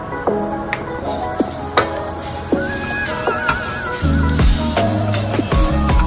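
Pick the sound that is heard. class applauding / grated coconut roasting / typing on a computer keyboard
grated coconut roasting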